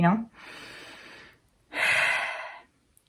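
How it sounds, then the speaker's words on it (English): Two deep, slow breaths, each a long airy rush lasting about a second, separated by a short pause, close and clear with nothing else around them. "take your breaths, your deep, slow breaths"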